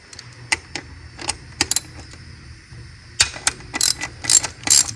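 A ratchet wrench loosens bolts on the cold air intake of a 1.5T Honda Accord, with bursts of rapid metallic clicking in short runs, close up, separated by brief pauses.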